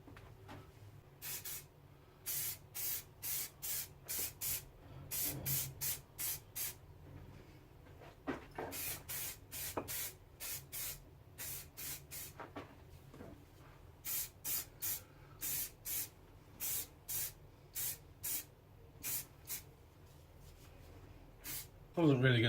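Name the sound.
spraying lacquer from a spray can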